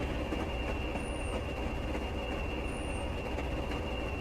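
A Class 20 diesel locomotive in Train Simulator rolls steadily over points, with a continuous rail rumble, a high whine, and two brief wheel squeals partway through.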